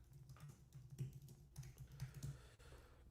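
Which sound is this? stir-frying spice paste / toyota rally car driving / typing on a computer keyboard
typing on a computer keyboard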